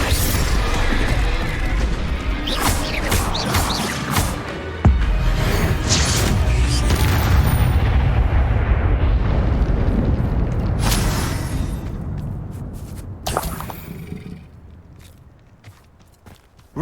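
Confringo spell explosions and blasts in the video game Hogwarts Legacy, a series of loud bursts and crashes with a sharp hit near the middle. Quieter hits follow and the sound fades toward the end.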